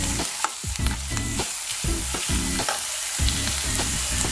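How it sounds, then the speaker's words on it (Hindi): Food sizzles and fries in a pan over a medium flame while being stirred and sautéed, with a continuous close crackle broken by repeated scraping stir strokes. "अभी ये मीडियम फ्लेम में फ्राई हो रहा है"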